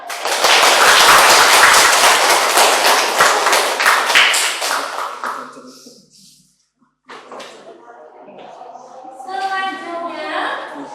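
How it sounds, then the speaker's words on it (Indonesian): Students in a classroom burst into dense, lively applause for classmates who answered, clapping hard for about five seconds before it fades, then a voice speaks over the quieter room. "Boleh beri tepuk tangan buat yang sudah menyampaikan jawabannya"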